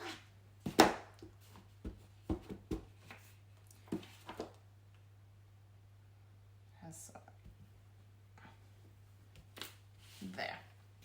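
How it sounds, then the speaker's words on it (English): A rubber stamp is pressed onto an envelope on a foam-backed craft surface, making a few soft, sharp taps and knocks in an otherwise quiet room, with a quiet voice heard at times. "now I feel confident enough to stamp it on the envelope"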